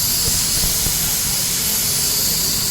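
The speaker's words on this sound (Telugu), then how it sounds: "ఆలుగడ్డ ఫ్రై చేస్తున్నాను" Potatoes fry in a pan, giving a loud, steady hiss of sizzling oil with a few soft low knocks underneath, close and continuous.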